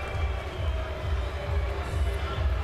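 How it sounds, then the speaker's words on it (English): Sustained low roar of a boxing arena crowd booing at a Donnie Nietes vs Juan Carlos Reveco fight, a steady, dense wash of disapproving voices that stays loud and unbroken throughout. "That's probably the genesis of the booing that you're hearing here."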